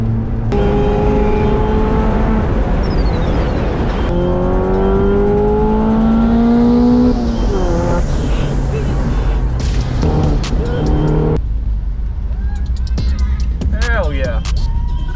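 Race cars on a wet, soggy road course, including an autocross-prepped Miata and Corvettes, with steady loud engine drone and shifting revs, cars passing close by, spray and wind roar throughout.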